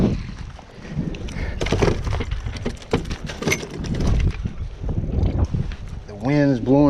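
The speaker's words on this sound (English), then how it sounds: "The wind is blowing today." Wind buffets a fishing boat out on Lake Eufaula during a tournament. It makes a steady, broad rushing and roaring sound that carries on throughout, with water noise mixed in and a voice speaking near the end.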